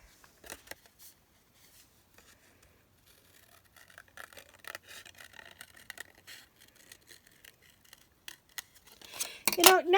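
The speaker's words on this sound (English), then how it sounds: "detail scissors here" Small detail scissors snip through a paper napkin in a series of quiet crisp cuts and rustles, close up, with a soft voice and a louder clatter near the end.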